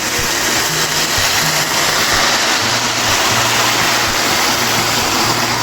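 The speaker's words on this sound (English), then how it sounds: "Just add some warm water in there." Warm water pours into a pot of rice for a Trinidad-style beans and rice dish, a continuous close rushing splash that holds loud and steady without any talking.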